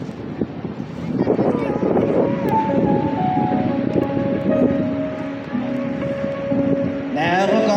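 Supercharged Pratt & Whitney R1340 Wasp radial-engine aircraft performing at a beach air show, a droning engine roar rising and holding under a public-address announcer's voice, with wind noise and a brief pitch shift near the end.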